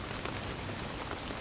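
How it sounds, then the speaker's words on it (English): Steady rain falls outdoors in southern Mexico after hours of downpour, a dense, even hiss of drops striking surfaces, constant and close with no voices. "It's been raining now for,"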